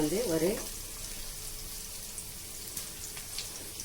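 Onions sauté in a pan for sago upma, a soft, even sizzling hiss with faint crackles. A voice is heard briefly at the start.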